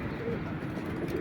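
Domestic pigeons landing at a rooftop loft in strong wind, giving soft repeated coos close by over a steady breathy rush of wind noise.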